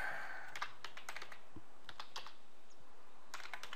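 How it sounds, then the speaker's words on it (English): Rapid, light clicks of typing on a computer keyboard, irregular keystrokes in quick bursts with a short pause midway, close and quiet with no talk. "just by typing"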